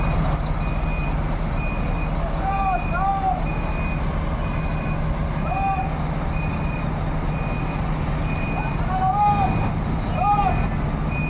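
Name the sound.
truck maneuvering with its rear wheels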